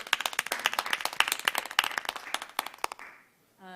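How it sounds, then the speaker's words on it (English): A single person clapping at a council meeting, a run of sharp close claps that start quick and irregular, then thin out and stop, with a brief voice right after. "I want to give you a slow clap."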